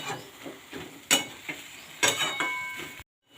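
Malabar spinach (pui shak) and vegetables being stirred and turned in a frying pan, with soft scraping strokes of a spatula, a couple of sharper clinks against the pan and a low sizzle underneath, close by and without talk.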